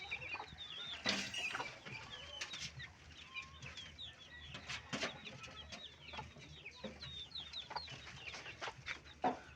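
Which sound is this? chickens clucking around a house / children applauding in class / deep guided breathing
chickens clucking around a house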